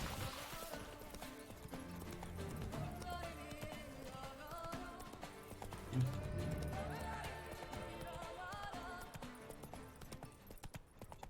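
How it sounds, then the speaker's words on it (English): A horse galloping in The Witcher 3 Blood and Wine video game, with continuous hoofbeats under a busy mix of game music and ambience, steady and fairly dense throughout. "¿por qué el caballo no corre por aquí?"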